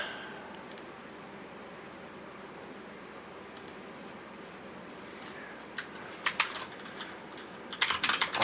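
Loud computer keyboard being typed on, faint at first under a low steady background hum, then sharper clusters of clicks and clacks coming in bursts toward the end.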